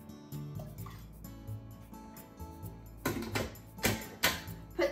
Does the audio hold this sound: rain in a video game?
no